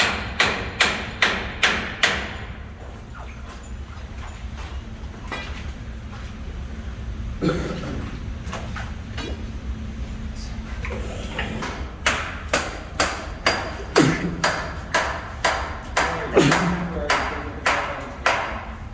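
A hammer pulls spikes at an abandoned gold mine, striking in quick runs of sharp metallic blows, with a bunch at the start and more toward the end, separated by a quieter stretch of shuffling and handling noise.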